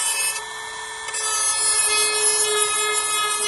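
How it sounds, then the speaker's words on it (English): Sanding a Harley-Davidson Lowrider ST motorcycle part during an LED headlight install, a continuous raspy rubbing close up with a steady tonal whine under it and no talk. "we're sanding it right now, giving it the finishing touches so we can put it back on."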